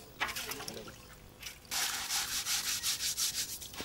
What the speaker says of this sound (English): Wash and stir the paddy well so that the lighter particles float.